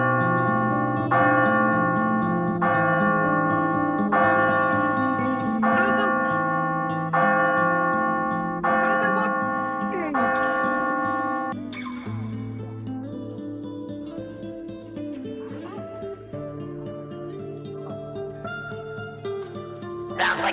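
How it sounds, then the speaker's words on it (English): A bell rings out in repeated, evenly spaced strokes, each ringing tone decaying into the next, loud and resonant at first before the pattern thins into lingering overlapping tones. "Ring the bell."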